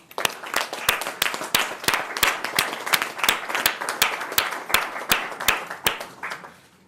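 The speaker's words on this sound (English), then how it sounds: "Let's give them all a round of applause." Steady clapping from an audience applauding students and their parents at a New York City event, dense rapid claps at a constant pace for the whole stretch with no talk over it.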